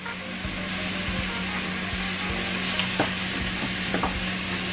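Onions and garlic sauté in coconut oil alongside a Scotch bonnet pepper for a chickpea, broccoli and spinach curry, giving a steady close sizzle with scattered scraping stirs and a low hum underneath.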